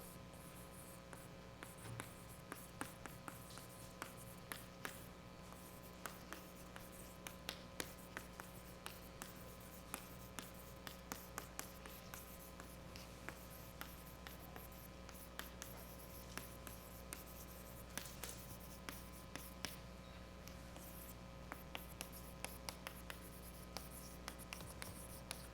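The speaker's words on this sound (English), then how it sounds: "let me write down the title" The title of a mathematics lecture is written out by hand on a board, a long series of faint, irregular scratchy ticks and strokes over a low steady room hum, with no talking.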